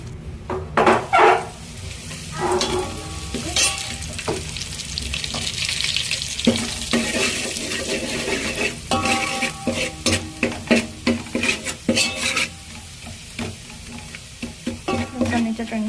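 Garlic chutney sizzles in hot oil in a pan, with repeated scraping and stirring strokes from a spoon. There are occasional clinks of metal against the pan, and the frying hiss stays steady and close throughout.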